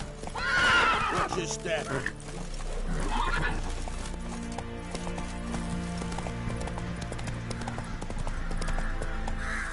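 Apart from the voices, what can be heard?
horse neighing and galloping in the video game The Witcher 3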